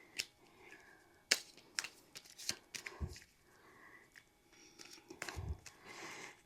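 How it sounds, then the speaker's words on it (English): Playing cards being shuffled by hand, a few quick riffling snaps and soft card flicks, close and fairly quiet, with brief pauses between bursts. "And we'll shuffle our cards again."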